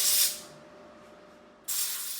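MIG welding on a car body panel with 0.6mm wire, two short bursts of steady hissing crackle with a quiet pause between them.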